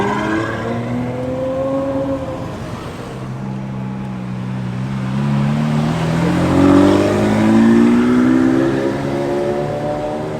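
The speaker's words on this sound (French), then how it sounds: "il y a une Daytona SP3 qui passe là" A Ferrari Daytona SP3 drives past on the streets of Monaco during the F1 Grand Prix weekend, its engine note climbing and swelling as it nears and passes, with a steady crowd and street hubbub behind.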